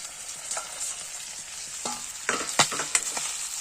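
Oil sizzles in a covered pan while pork cooks with lai saak, a steady frying hiss with louder crackles and spits near the end, and no one speaking.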